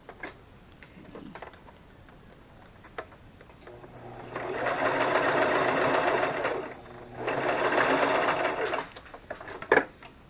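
A sewing machine stitches a plastic piece onto burlap in two steady whirring bursts of roughly three and two seconds, close and fairly loud, separated by a brief pause with light handling clicks around them.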